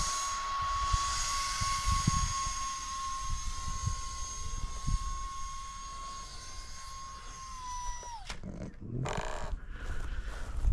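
A 560mm RC model F-86 Sabre jet runs with a steady high-pitched fan whine for several seconds before it abruptly winds down and cuts out, followed by faint rustling outdoors.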